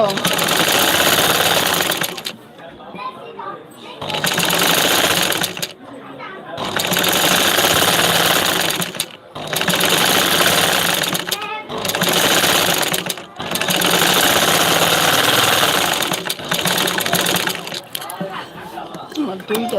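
An electric sewing machine stitching three-piece outfits, running in long loud bursts of rapid, steady whirring and clatter with short pauses between runs, and voices talking briefly in the gaps.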